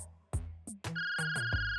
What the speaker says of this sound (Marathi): पण तितक्यात त्याचा फोन वाजला